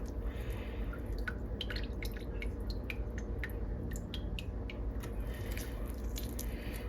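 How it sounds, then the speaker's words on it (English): Milk that has gone bad is being made into cheese and pressed through cheesecloth. Scattered small drips and wet squishes fall close by over a steady low background hum, with no talking. "pressing the cheese through the cheesecloth."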